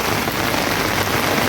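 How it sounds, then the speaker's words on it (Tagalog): Heavy rain pours in a dense, loud, unbroken hiss, close by and without any pause or voice over the brief stretch. "grabe ang lakas ng ulan."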